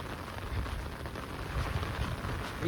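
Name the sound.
heavy rain pouring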